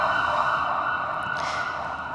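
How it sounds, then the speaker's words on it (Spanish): An ambulance siren wails steadily in the background during a church sermon, heard faintly from a distance for about two seconds with little talk over it. "que pase la ambulancia"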